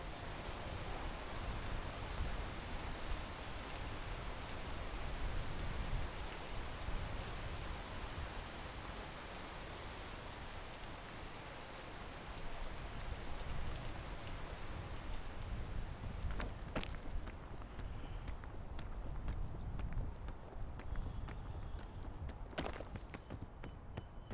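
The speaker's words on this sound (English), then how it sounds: "Stop raining." Rain falls steadily in a video game, a soft, continuous hiss of drops with no break, faint and even throughout.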